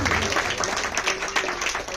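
Audience applause at a Hindi film song program rises under a murmuring crowd, a steady, moderately loud patter of clapping with some voices mixed in.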